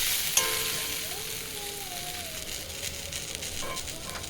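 Yardlong beans fry in a pan with salt and turmeric, giving a steady, soft sizzle throughout, with a faint clink near the start and no speech.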